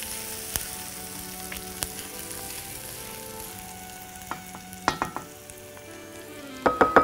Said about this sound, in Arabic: هحط البصل مع اللحمه